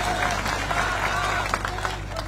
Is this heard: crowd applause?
yes